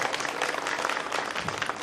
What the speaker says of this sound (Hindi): तालियों से आप मेहरा जी का स्वागत करेंगे।